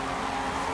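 A 2J car drifts in a racing game, its tires squealing in a steady, loud, continuous hiss with the engine droning beneath, alone and close.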